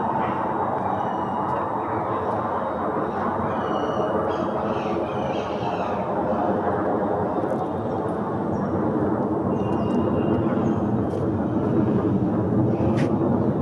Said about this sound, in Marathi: विमान चाललं आहे त्याच्यामुळे थांबलोय